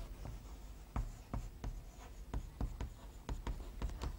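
Chalk writing a title on a classroom blackboard, a run of quick scratchy taps and strokes in an uneven rhythm, close and fairly soft, with no voices.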